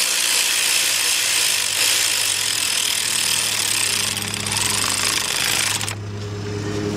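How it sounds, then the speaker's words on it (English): Air ratchet driving down a valve cover bolt on a 2012 Ford F-150 3.5, a loud continuous buzzing rattle at full throttle that eases off and drops to a lower idle hum near the end, with no talking. "when I get to where I'm feeling that it's tightening, I let up on the ratchet."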